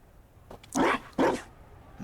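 A dog in Dragon Age Inquisition gives two loud, close barks about half a second apart, after a faint short yip, over quiet background.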